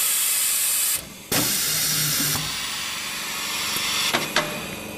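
A pneumatic air cylinder on a cushion filling machine fires with a sharp, loud burst of hissing air, then a short clatter of the slide mechanism, over a steady background hiss, followed by a couple of smaller clicks and puffs near the end.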